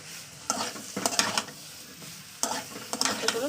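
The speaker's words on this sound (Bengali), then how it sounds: "আলুটাকে দিয়ে ভালো করে আমি কষিয়ে নেবো" Potatoes are stir-fried in a pan for a silver carp fish curry, with bursts of scraping, sizzling stirring strokes in several groups separated by quieter frying, close and without talk.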